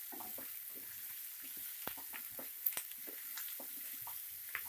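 Sliced mushrooms fry with garlic in a pan over a high flame, a soft steady sizzle with light crackles and occasional pops, fairly quiet and close.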